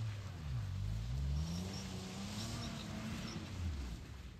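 A Hyundai car does all-wheel-drive donuts in wet snow, its engine droning steadily and rising in pitch as it revs, moderately loud and continuous.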